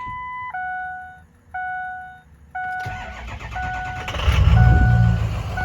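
A 2003 Ford F-250 diesel pickup with 131,000 miles chimes steadily inside the cab. Then the starter cranks and the engine catches, settling into a loud, close rumble that swells toward the end.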